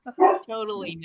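A dog barks once, close by, with a short yip followed by a longer whining bark, while a person speaks at the same time.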